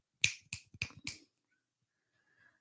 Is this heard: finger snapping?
yes